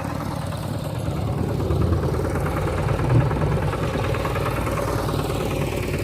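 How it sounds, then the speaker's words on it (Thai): A farm tractor's engine idles at a steady low rumble outdoors, a constant mechanical drone with slight swells in loudness and no voices over it. "เดี๋ยวเฮาสิขี่รถไถไปนำเพิ่นเลย รถไถก็มาฮอดแล้ว"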